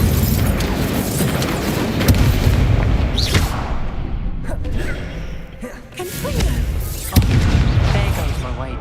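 An Incendio fire spell blasts in Hogwarts Legacy, with booming bursts and crackling impacts over a dense game soundscape, loud and repeated through the clip.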